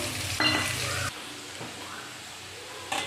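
Eggplant pieces fry in hot oil left over from frying fish, producing a steady hissing sizzle with a louder burst of spitting near the start. The sizzle then settles into a quieter hiss and flares up briefly again at the end.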